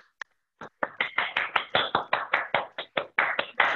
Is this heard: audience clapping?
yes